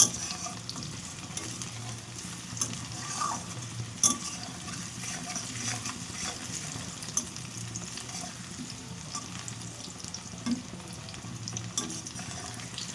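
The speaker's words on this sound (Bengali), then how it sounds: "এবার এদিকে ভালো করে ভেজে নেব" Panch phoron five-spice frying in a pan, a continuous close sizzle with scraping stirs and small crackles over about thirteen seconds, no voices.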